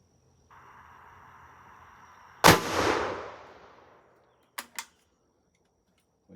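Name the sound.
300 Blackout gunshot, Hornady A-Max 175 grain bullet into gel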